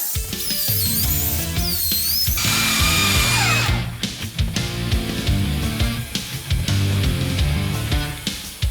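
A power drill boring into wood with a 20 mm bit, 130 mm long, runs loud and steady with a rising whine, then grinds and chatters in repeated bursts as it bites through the timber. No one speaks.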